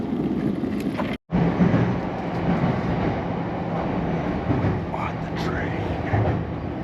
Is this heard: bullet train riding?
yes